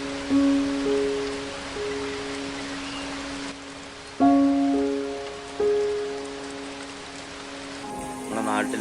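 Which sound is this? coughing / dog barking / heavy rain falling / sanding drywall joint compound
heavy rain falling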